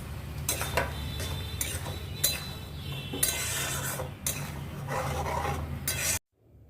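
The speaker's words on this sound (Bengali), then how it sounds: "এবার আমি সয়াবিনগুলো দিয়ে দেব।" Drained boiled soybeans tipped into a hot pan of soya masala and stirred, giving loud, close sizzling with repeated scraping and clattering bursts against the pan, then a sudden stop; no talk.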